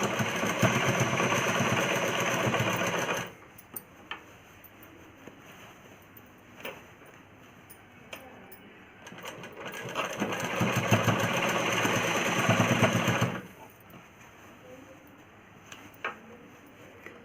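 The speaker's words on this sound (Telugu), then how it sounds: "సెకండ్ స్టిచ్ కూడా వేసేసుకోవాలి ఇలాను మొత్తం" A sewing machine runs in two sustained stitching bursts while an umbrella frock is sewn, its close, steady motor whir separated by quiet pauses with light ticks and handling clicks.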